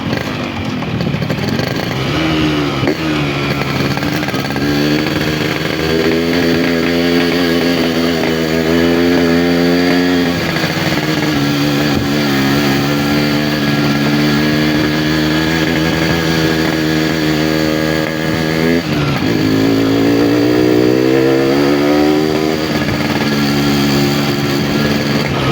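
A Yamaha RX motorcycle engine revs continuously and loudly under repeated throttle, the pitch rising and falling in waves through the whole stretch, close by with no talk over it.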